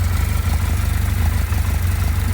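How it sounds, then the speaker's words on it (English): A 2019 Jonway YY350-9a motorcycle idles close by after its first start, a steady low thrumming engine with even rhythmic pulses and no talk. "So now the bike is running."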